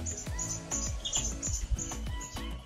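Birds chirp repeatedly in short bright calls near a seaside balcony in Mauritius, with rhythmic thumps and low knocks mixed among the close tweets.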